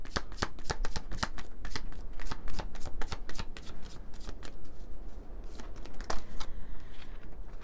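Oracle cards being shuffled by hand, a rapid series of crisp riffling flicks and slaps repeating close up, with no talking over them.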